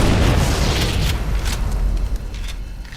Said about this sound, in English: take them all out with 1 or 2 frag grenades